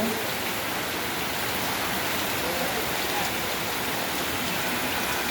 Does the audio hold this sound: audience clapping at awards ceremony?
no